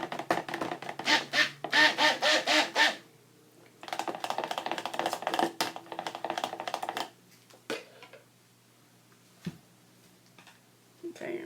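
A spatula scrapes down thick soap batter containing kaolin clay and fragrance oil, giving bursts of rough, rhythmic scraping, then pauses and a few scattered taps.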